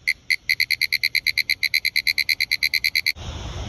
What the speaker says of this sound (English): Another green tree frog just chilling on my leg right here.